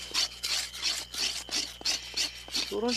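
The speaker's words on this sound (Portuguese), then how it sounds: "À medida que raspam a superfície da planta" Rhythmic rasping as the surface of a curare plant is scraped, about ten repeated strokes close by, with a brief voice at the end.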